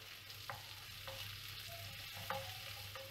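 Garlic, dried red chillies and a large onion fry softly in a pan, a faint low sizzle broken by a few light utensil scrapes and taps.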